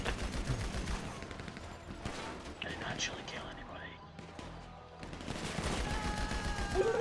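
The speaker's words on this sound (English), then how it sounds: "You do your shooting, then I'll do my shooting." GTA Online survival-mode gunfire sounds as rapid, crackling bursts of automatic shots that come and go. Players talk over the shooting.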